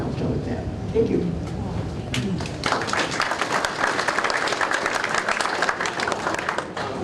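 A crowd bursts into sustained applause, many hands clapping steadily and fairly loudly, at a remembrance event for the 1965 Lake Minnetonka tornadoes, with a voice speaking briefly just before it begins.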